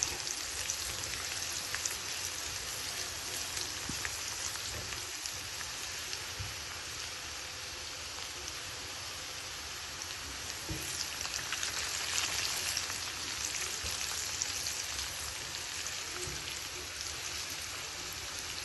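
Red amaranth greens fry with garlic in oil, producing a soft, steady crackle and hiss like light rain that holds at an even, fairly quiet level from start to finish.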